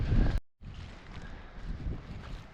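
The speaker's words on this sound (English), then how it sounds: "wind, folks, is so extreme and so cold" Strong, cold wind gusting across wild Scottish coastland near an abandoned old farm complex, a loud continuous roar buffeting the microphone, broken by a brief drop to silence before the blustering resumes.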